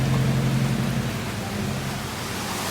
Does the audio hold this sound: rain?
yes